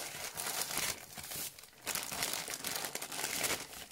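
Christmas wrapping paper on a parcel is handled and crumpled up close, loud crinkling in bursts with short pauses between, no voices.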